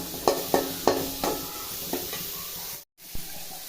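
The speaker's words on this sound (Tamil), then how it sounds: "கொஞ்சமாக வெங்காயம் கட் பண்ணி எண்ணெய் சேர்த்து வதக்கிக்கலாம்" Onions being sautéed in oil for thoothuvalai chutney: a spoon scrapes and stirs in several sharp strokes over a soft steady sizzle, then a brief dropout and one last clink.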